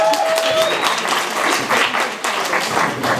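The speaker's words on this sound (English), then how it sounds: "Clap for her." Steady applause from a crowd, dense clapping sustained throughout with a few voices faintly mixed in.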